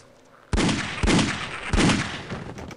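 Gunfire in the video game Half-Life: Opposing Force: three loud, close, sharp shots in quick succession, each with a ringing decay, rising out of quiet game ambience.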